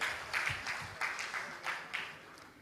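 Room applause for the chairman at an Abuja memorial event for Professor Humphrey Nwosu, moderate clapping rising in uneven bursts that swell and fade over a couple of seconds.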